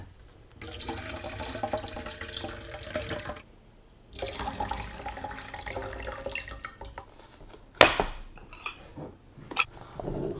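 Water runs and splashes into a cooking pot during a second filling for zucchini, a steady rushing pour that stops, then resumes, with a clatter of pots and dishes near the end.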